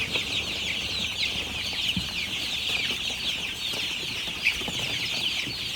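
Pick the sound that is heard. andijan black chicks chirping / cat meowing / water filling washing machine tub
andijan black chicks chirping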